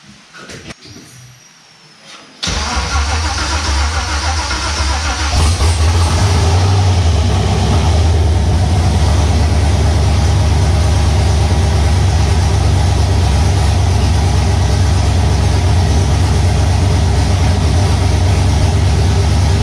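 After a short cranking whir, an LSA-swapped LH6 V8 with open headers roars to life very loudly, settling into a deep, rough, throbbing idle that keeps rumbling steadily.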